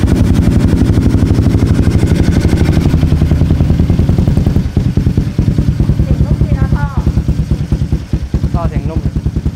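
A Honda Forza 350 scooter engine runs with a steady, throaty exhaust pulse close by. The revs ease slightly partway through, and brief voices can be heard over it near the end.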